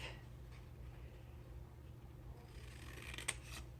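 Quiet scissors snipping through a paper scrap for a handmade traveler's notebook, faint and close over low background hum, with a small sharp click near the end.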